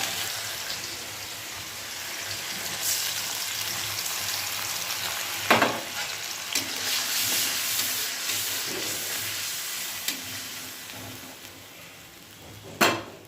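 Potatoes frying in a pan over a gas flame as spices and a splash of water go in and get stirred: a steady, close sizzle with a few sharp scrapes and knocks of the spoon.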